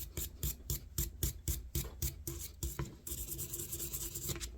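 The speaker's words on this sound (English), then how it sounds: "I'm going to start scrubbing" A brass brush scrubs rusty steel on a No 1 Mk 3 Enfield .303 rifle in steady, rhythmic back-and-forth rasping strokes, close and fairly loud, shifting into a denser continuous scrubbing near the end.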